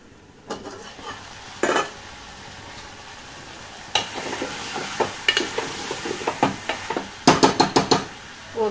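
Ginger garlic paste sizzles in a pan while a spoon stirs it, giving scattered scraping clatters and short bursts of frying hiss, with louder clustered stirs toward the end.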